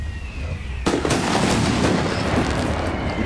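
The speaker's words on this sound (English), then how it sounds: "Oh, they're actually using grenades." In a World War 1 mod of Napoleon Total War, grenades go off after a quiet moment: a sudden sharp blast followed by a rapid string of crackling, popping explosions, loud and close.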